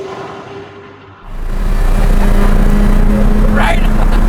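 A McLaren Senna engine surges to full throttle on a road, a deep loud roar building quickly and holding steady, close, after a brief quieter moment.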